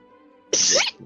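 One sharp, close sneeze bursts out after a moment of quiet room tone.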